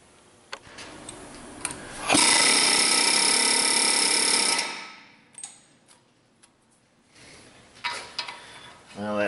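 Impact wrench hammering loose a rusty lower ball joint nut on a Dodge Grand Caravan, one loud sustained rattling burst of about two and a half seconds, close up, followed by quieter clanks and shop noise.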